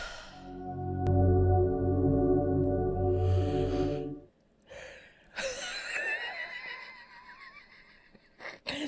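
A person yawns loudly in a long drawn-out, voiced breath that fades after a few seconds, followed by softer rustling and breathy sounds nearby.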